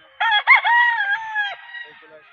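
Crowing from a Grey Hatch bull stag gamefowl at a pet market, one loud, close, drawn-out call with harmonic overtones that starts sharply and fades into faint background bird sounds.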